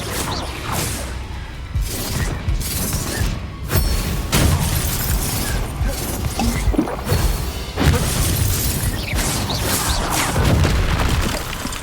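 Confringo fire spells burst in a Hogwarts Legacy duel: loud booming explosions with crashing, shattering debris and whooshes, several blasts layered over dense battle noise throughout.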